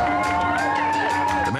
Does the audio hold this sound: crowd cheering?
yes